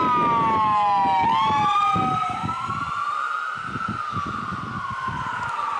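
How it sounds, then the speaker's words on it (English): A loud ambulance siren wails nearby, its pitch dropping and sweeping as it passes, over the rumble of traffic. "Wait till the ambulance goes by"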